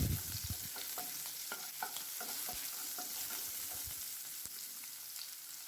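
Chopped green chillies and cumin sauté in oil in a pan, a steady bright sizzle with a few scraping stirs of the spoon, close and continuous with no talking.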